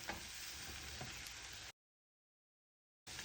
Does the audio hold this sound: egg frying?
yes